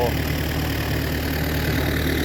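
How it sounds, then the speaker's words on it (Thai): A boat or vehicle engine left idling in neutral at a Thai carp fishing pond during a harvest, a steady low continuous rumble with no talk. "พ่อก็ใส่เกียร์ว่างซโลเครื่องไว้นะครับ"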